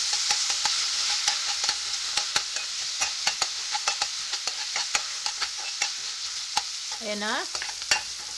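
Onion and garlic sizzle steadily in a hot pan, with repeated scraping stirs clicking through the frying. A short spoken remark comes near the end.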